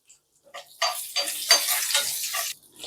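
Half a spoon of asafoetida hits hot oil in an Andhra-style sambar tempering, with green chillies already in the pan. A close, crackling sizzle flares up after a brief quiet, holds steady for about two seconds, then dies down.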